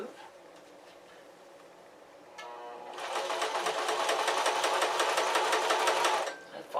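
Sewing machine stitching walking shorts, starting after a quiet pause and running as a steady, fast, close-up mechanical chatter for about three seconds before stopping.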